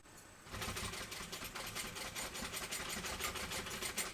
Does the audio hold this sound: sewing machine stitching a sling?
yes